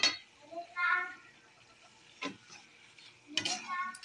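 Pork simmering in coconut milk gets stirred in a pan, with soft scraping and a faint sizzle heard between short bursts of nearby talking.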